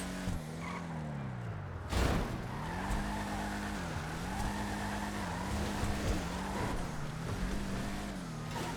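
A 1968 Ford Mustang Rapid GT Classic driving fast in GTA 5, its engine droning steadily and rising and falling in pitch as it shifts, with a brief loud tire screech near the start.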